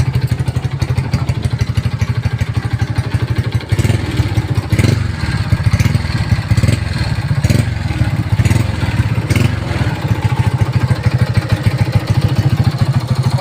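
A Honda Wave 125s motorcycle engine runs steadily at a close, loud idle, its low rhythmic chugging punctuated by occasional sharper revs and clatter, with no voices over it.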